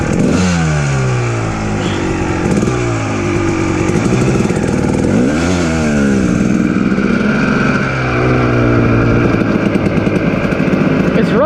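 A Kawasaki KX dirt bike is ridden around a neighborhood past dead cornfields, its engine loud and close throughout, rising and falling in pitch as the rider shifts and revs, with wind buffeting in the background.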